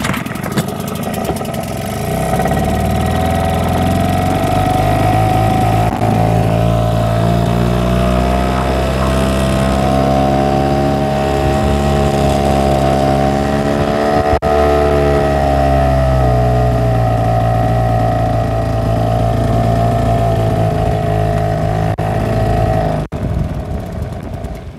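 A 6-horsepower Hangkai outboard engine fitted with a hydrofoil runs steadily and loudly on a boat for the whole stretch. Its droning pitch shifts slightly midway, and no voices are heard.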